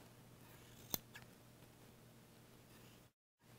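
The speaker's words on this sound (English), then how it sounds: "And get my shears in there." Fabric shears snip through the seam allowance of a sewn corner, a single crisp cut standing out above faint rustling and a low background hum, followed by a brief dropout.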